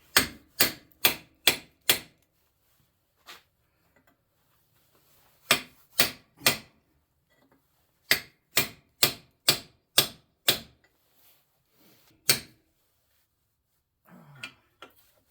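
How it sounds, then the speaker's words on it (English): Hammer striking a chisel to knock out an upper ball joint on a Dodge Dakota, sharp metallic blows in quick rhythmic runs of four to six hits separated by pauses, close and loud with no talk. "We're going to try a chisel to pry it out the rest of the way."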